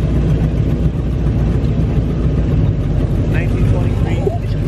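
A 1923 vintage car engine runs loud and close at a car show, a steady low rumble throughout, with faint chatter nearby.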